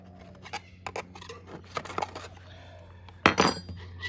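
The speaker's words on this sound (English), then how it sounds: "we're just going to run around the edge with a butter knife like so, just to get any of those parts that are sticking" A butter knife run around the edge of a cake tin holding boiled fruit cake in a camp oven: light metallic scrapes and clinks come in short, uneven taps, close and quiet, with one louder scrape near the end.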